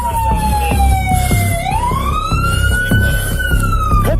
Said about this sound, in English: Cut the sirens!